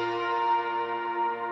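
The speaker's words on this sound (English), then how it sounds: "I did these ambient guitars." Ambient electric guitars drenched in shimmer reverb, likely Valhalla Shimmer, in a produced track: a sustained, bell-like harmonic wash that holds steady and soft throughout the short excerpt.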